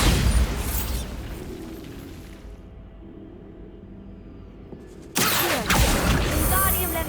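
A Bombarda blasting spell goes off in Hogwarts Legacy as a loud, sudden booming burst, dropping to a low rumble before a second heavy blast hits, with a voice calling out the spell.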